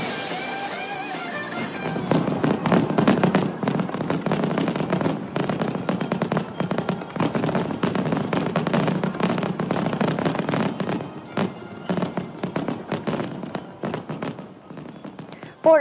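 Fireworks at a celebration in an American city burst in a long rapid barrage of sharp cracks and pops. They start after a quiet opening and keep crackling densely, loud and close, before thinning out near the end.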